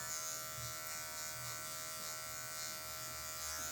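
Electric hair clippers buzz steadily and close up while cutting a mid fade, with a constant high drone and no pauses or talk.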